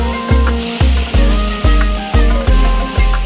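Onions stir-fried with dry seasoning for a vegetarian bottle gourd curry, a loud close sizzle punctuated by a steady rhythm of spatula strokes against the pan, about two scrapes per second.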